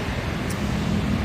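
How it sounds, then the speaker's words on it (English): Street traffic: a steady, loud broadband roar of passing cars with wind-like rumble, continuous and unbroken, with no talk over it. "There's a lot of traffic."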